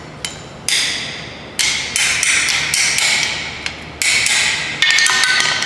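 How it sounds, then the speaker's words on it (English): A flathead screwdriver is tapped with a hammer to separate a driveshaft part on a Nissan Rogue, giving a series of sharp metallic taps, close and loud, irregularly spaced, with quicker clusters toward the end. "I'm just gonna take a flathead here and kind of just tap the flathead"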